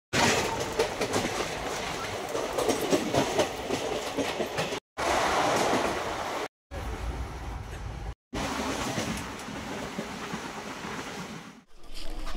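An Indian passenger train in sleeper class runs on the rails with a loud, continuous rumble and rattle and a clickety-clack of the wheels, broken by a few abrupt cuts.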